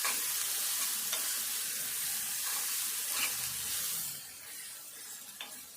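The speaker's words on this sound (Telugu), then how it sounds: "ఇవన్నీ కూడా మంచిగా నూనెలో అయితే మంచిగా ఫ్రై కావాలి." Prawns frying in oil, a dense steady hiss of sizzling with light stirring scrapes, close and continuous, easing a little toward the end, no talking.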